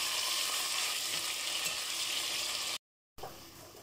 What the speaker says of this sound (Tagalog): So, ating bawang at sibuyas, lagyan natin ng chicken. Ngayon lang natin guys, gisay lang natin siya.